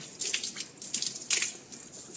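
Tap water runs and drips intermittently into a sink while a freshly cleaned household water faucet is rinsed, close and soft, in short splashy bursts with no voices.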